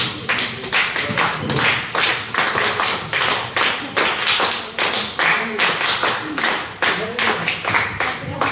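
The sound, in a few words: people clapping at a gathering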